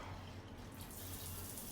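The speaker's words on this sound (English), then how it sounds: "So let's check the water pressure." Steady rush of water from a hotel bathroom shower in an airport hotel in Ho Chi Minh City, spraying continuously at close range with no voices over it.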